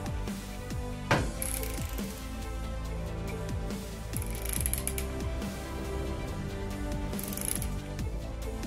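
A ratchet tightening bolts on a spare Citroën 2CV engine being reassembled for a kit car, clicking rapidly and steadily up close in repeated short strokes, with a metallic clank near the start.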